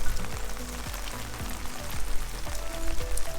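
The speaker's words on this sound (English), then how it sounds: "the rain is just kind of falling and gently hitting it" Steady patter of water falling on a car body panel up close, with occasional heavier drops tapping through a continuous wash of spray.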